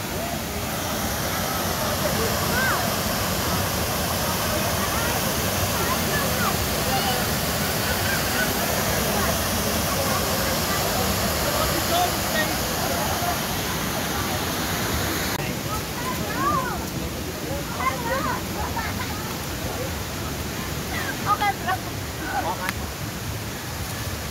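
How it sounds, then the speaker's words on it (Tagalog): A loud, constant roar of rushing water from a large waterfall on Kulen Mountain, Cambodia, with a voice talking faintly under the noise in the second half. "yun yung pinakamalaking talon guys"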